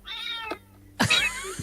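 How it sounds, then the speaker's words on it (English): A cat meows loudly and close by, two distinct cries in quick succession, the second longer and stronger, with quiet room tone between them. "Oh, the cat."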